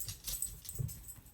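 A dog gives short, quiet whimpering yelps, close by, while a cat teases it indoors during crafting, with a faint jingling like keys.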